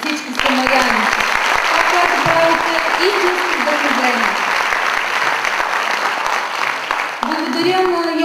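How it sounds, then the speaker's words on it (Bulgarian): Loud, sustained audience applause at the Good Samaritan annual awards ceremony, dense clapping throughout with a few voices and music tones audible alongside it. "Аплодисменти за Диана, Иванка, Димо и за всички самаряни."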